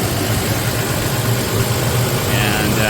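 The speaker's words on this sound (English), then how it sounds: "I'll go ahead and let it run for about 5 minutes in idle" Toyota Tacoma engine idling steadily right after an oil change, a continuous low rumble with faint vibration holding even throughout, no talk over it.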